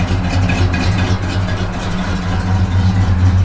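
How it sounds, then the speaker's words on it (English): A 1973 Pontiac Grand Prix with Flowmaster exhaust idles loudly up close, a deep, steady, lumpy rumble with a regular throb throughout. "Car's got great sound with those flows."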